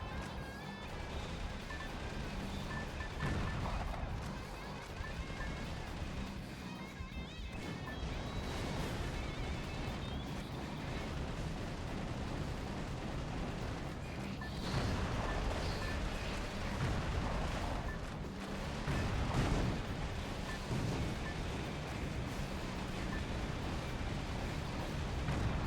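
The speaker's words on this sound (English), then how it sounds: "If you just keep shooting them, they sort of get stun locked." Relentless weapon fire from the mech-combat game Metal Wolf Chaos: a dense, continuous wall of shots and impacts with heavier booming surges, loud and unbroken throughout.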